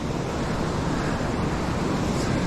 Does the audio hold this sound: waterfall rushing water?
yes